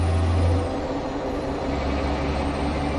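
A Mack R truck engine in the video game American Truck Simulator rumbles steadily, its deep low tone dropping lower after a moment and continuing as a constant drone.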